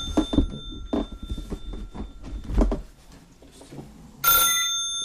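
A telephone rings during a recorded oral history interview, its bell tones sounding amid room noise and handling thumps, with a louder ring bursting in near the end.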